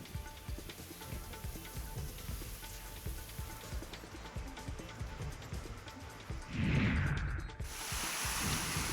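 Heavy unseasonal rain pours down in Nashik, India, in a dense, steady rush with patters on surfaces, swelling louder with a brief whoosh toward the end.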